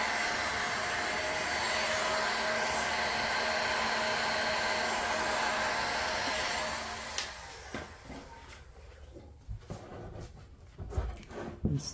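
A heat gun blows a loud, steady whooshing hum onto a plastic blowmold snowman figure for about seven seconds, then cuts off, leaving faint handling clicks and light knocks.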